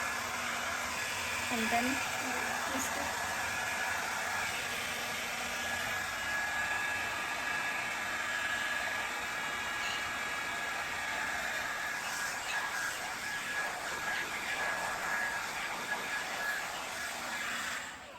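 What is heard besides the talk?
Havells Air Care Styler HC4085 hot air brush blowing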